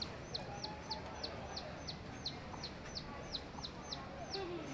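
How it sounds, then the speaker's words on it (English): Chicken sounds in an outdoor spot during a shore excursion from a cruise ship, where a hen walks about with a baby chick. About a dozen short, faint calls repeat at an even pace over steady background ambience. "There's a chicken walking around with a little baby chick."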